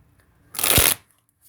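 A deck of tarot cards is riffle-shuffled once in a quiet room, giving a short crisp burst of flapping card edges that lasts about half a second and ends with a soft snap.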